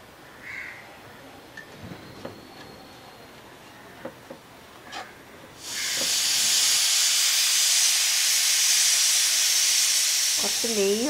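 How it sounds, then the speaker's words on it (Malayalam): Onions and tomatoes with salt are sautéed in a pan. A few light clinks come first, then a loud, steady sizzling hiss takes over for the rest. "സവോളയും കുറച്ച് തക്കാളി ഉണ്ടായിരുന്നു ബാലൻസ്, അതുകൂടെ ഇച്ചിരി ഉപ്പും കൂടി ഇട്ടിട്ട് നല്ലപോലെ വഴറ്റിയെടുക്കണം കേട്ടോ."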